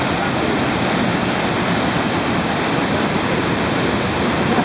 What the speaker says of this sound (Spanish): ¿Qué se sintió haber estado en la cascada, Peter?